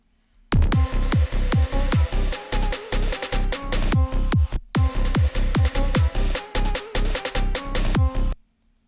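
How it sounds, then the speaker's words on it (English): A repeating run of sharp, pitch-dropping hits smeared by heavy reverb, sounding distant and washed out, with a short gap midway through. "I'll put a lot of reverb on them at first and make them sound far away"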